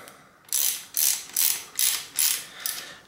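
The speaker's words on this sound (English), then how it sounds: "I'm gonna screw these in here" Brake caliper mounting screws on a mountain bike hydraulic disc brake conversion, driven in with a ratchet: six crisp, evenly spaced ratcheting bursts, close and clear, no speech.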